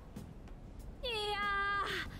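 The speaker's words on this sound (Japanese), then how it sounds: "猫の声には敏感でね" A cat meows once in the video game Persona 5 Strikers, a clear, drawn-out cry that rises and falls, following faint background noise.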